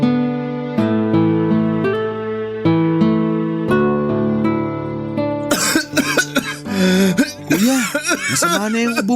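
Steady sustained musical tones give way to a run of harsh, rough coughing bursts, loud and close, with some strained vocal sounds mixed in.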